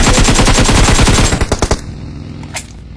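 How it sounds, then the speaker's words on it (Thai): Rapid automatic gunfire in PUBG Mobile, a loud close burst of fast repeated shots that breaks into a few last spaced rounds and then stops, with a faint distant shot after. "กูยิงผ่านรู"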